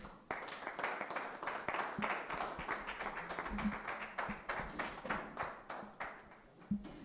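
An audience at an online conference on digital transformation of small businesses claps for a presenter, a steady run of rhythmic, fairly close hand claps lasting several seconds, with faint sounds between beats.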